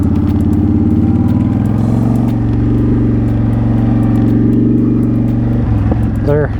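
Motorcycle riding in first gear around a gravel parking lot at about 15 to 18 miles an hour, with a loud, close, steady engine drone that shifts pitch as it eases off near the end.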